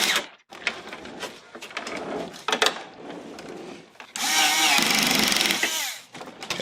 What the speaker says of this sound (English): I'm going to put the 2 screws in to hold the top part down next.